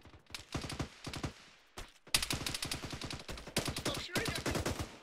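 Rapid bursts of rifle and machine-gun fire crackle in a tactical military shooter game, with dense volleys broken by brief pauses and a loud close stretch after the first couple of seconds.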